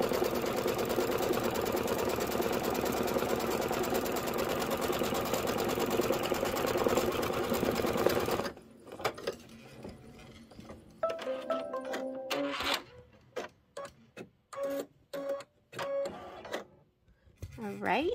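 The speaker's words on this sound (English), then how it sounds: "now it's going to do the cute little stitching for the watermelon" A Kimberbell embroidery sewing machine stitches watermelon detail on fabric, first a loud continuous whir, then short, intermittent bursts of stitching with someone talking.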